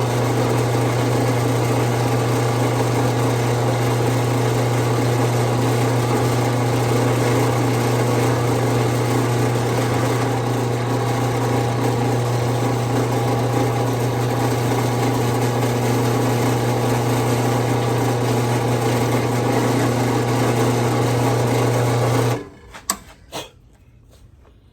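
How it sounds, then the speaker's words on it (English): A drill press runs as it bores a hole in an isolation foot for a honey extractor. Its loud, steady motor drone and hum hold evenly, then cut off near the end, followed by a few clunks. "Just got to drill this last hole,"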